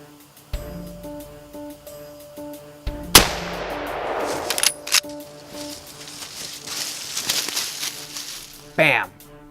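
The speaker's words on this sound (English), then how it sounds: "Bam! Put a good shot on him, and instantly I knew I hit him." A hunting rifle fires at a deer in brushy woods, one loud sharp crack that follows a quiet stretch of rustling and leaves a broad rumbling echo, then scattered movement and a short burst of voice.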